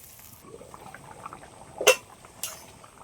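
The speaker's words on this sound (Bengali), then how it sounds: "এবার আমি পরিমাণ মতন জল দিয়ে দিচ্ছি" Water poured into a pot of simmering fish and potato curry, a brief liquid splash with a sharp clink of a utensil against the pot, then a second clatter, close against a quiet kitchen background.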